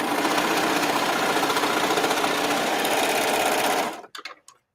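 A serger stitches through several thick layers of canvas in a steady, loud, fast mechanical chatter, then stops abruptly and leaves a few short clicks and knocks.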